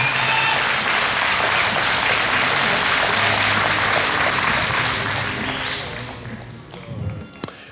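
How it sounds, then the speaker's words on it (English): Sustained audience applause for a third-place winner at a colt starting contest awards ceremony, loud and steady for about five seconds before tapering off into scattered claps. "Let's give her a round of applause."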